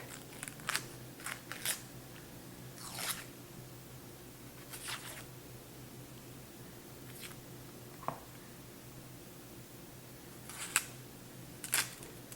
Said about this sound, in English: I have 1 onion that I'll dice up small, and I'll add that to the ground beef.